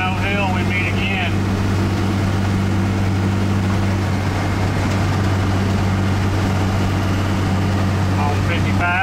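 First-gen diesel heavy tow truck with 7x.011 148-degree SAC injectors driving, a loud constant low engine drone with steady humming tones throughout, with talk over it in places.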